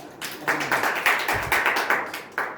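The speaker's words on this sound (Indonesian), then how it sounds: "Kasih aplaus untuk Ananda" Applause for a student in a microteaching classroom lesson: a small group claps in quick, uneven bursts, fairly close and steady throughout with no talk over it.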